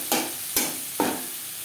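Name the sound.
chopped onions frying and being stirred for snake gourd fry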